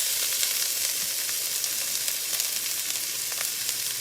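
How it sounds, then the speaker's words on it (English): Food sizzles in avocado oil in a frying pan, a steady, close, crackling hiss that runs unbroken throughout with no voices. "Ooh, listen to that sizzle."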